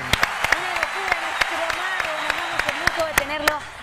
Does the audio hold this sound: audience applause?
yes